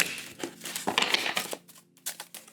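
Tarot cards being shuffled during a reading, a run of close, crisp papery riffling and slapping bursts with brief pauses between them.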